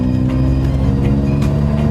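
A Fiat 1100 Super Select engine growls loudly and steadily through a modified stainless steel exhaust, a deep sustained rumble with slight rises in pitch, very close.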